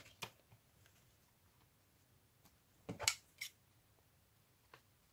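Scissors snip the corner off a paper tag in a quiet room, a few faint, sharp clicks scattered over a near-silent background, with the clearest cut near the middle.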